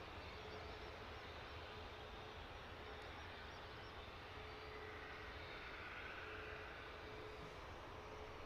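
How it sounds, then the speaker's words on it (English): An EasyJet airliner departing London Luton Airport for Barcelona gives a steady, broad jet-engine roar that holds constant and fairly loud throughout, heard at a distance with no other sounds standing out. "Barcelona destination for this latest EasyJet departure."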